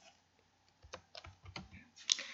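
A computer keyboard pressed in a quiet room during PowerPoint table editing: a handful of soft, close key clicks in quick irregular succession, ending with a slightly louder press.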